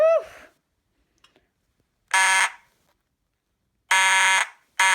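A fire alarm under test sounds three short, loud electronic bursts separated by silence, preceded by a brief vocal exclamation at the start.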